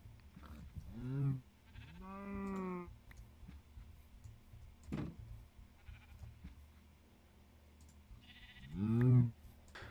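Sheep in the Minecraft video game, with three separate short wavering bleats spread over several seconds, the last one loudest, against a quiet game background.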